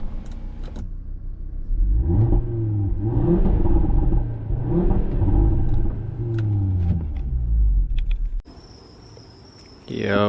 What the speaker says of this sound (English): let me try to rev it one more time for y'all